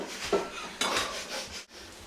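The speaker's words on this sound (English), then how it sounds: "Then scoop out the squash directly into this pot" Cooked butternut squash is scooped from its skin and dropped into a soup pot, giving soft wet thuds and a couple of scraping knocks of a utensil against the pot.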